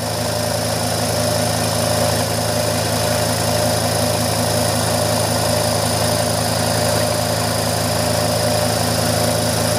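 A Kromrey generator running with its output shorted, a loud, steady mechanical whir and hum with a fast regular throb, holding even throughout.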